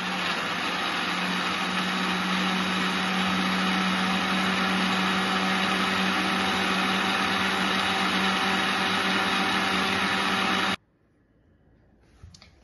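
An electric mixer grinder whirs loudly and steadily for about ten seconds while blending bottle gourd (lauki) juice, then cuts off abruptly, leaving near silence.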